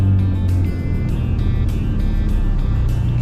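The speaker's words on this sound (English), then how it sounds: "She's idling high again." A Ford Bronco engine idles high at about 1,500 RPM while coasting in neutral, giving a steady, loud, close low-pitched drone with no talk.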